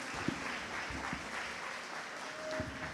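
Applause from a commencement crowd, a continuous even patter of many hands with a few sharper claps standing out, carrying on through three seconds.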